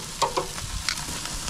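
Pork ribs on a grill give a low, steady sizzle, with a couple of light clicks and scrapes from turning the meat, quiet and close, with no voices.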